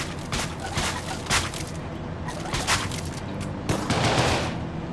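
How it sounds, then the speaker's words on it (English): Gunfire in the game Deadbolt rings out in several sharp, loud, close cracks spaced irregularly, each with a short noisy tail, over a constant busy game background. "I shot and missed."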